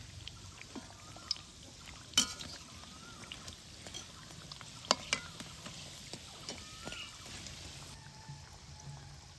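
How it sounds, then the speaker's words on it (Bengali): Potato-stuffed bread pakora fries in hot oil while being turned, giving a quiet, continuous crackle with scattered sharper pops and clicks throughout. "এবার চারিদিকে উল্টাই পাল্টাই কিন্তু ভালো করে ভাজি নিবা হবে।"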